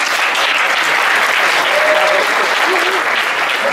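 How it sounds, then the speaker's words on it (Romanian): An audience applauds at a speaker event, dense continuous clapping throughout with a voice briefly audible over it. "Eu cred că meritați aplauze."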